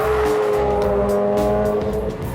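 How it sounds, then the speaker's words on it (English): A Passat diesel estate with a tow bar overtakes on the Nürburgring, heard from inside the passed car as a loud, steady engine roar with tyre noise filling the whole stretch. "I'm being overtaken by a Passat diesel estate. With a tow bar."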